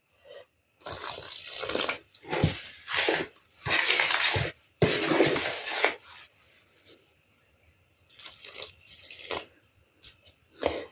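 Water is poured into flour while making dough for homemade cabbage varenyky, heard up close as a series of wet, splashing and swishing bursts separated by quieter gaps.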